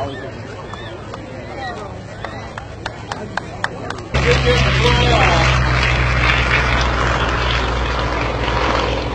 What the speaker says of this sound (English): There goes the Yak-18, there goes down the Yak-55.